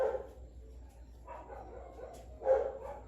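A dog barks in a few short bursts, one near the start, a couple around the middle and a louder one toward the end, over a low steady background hum.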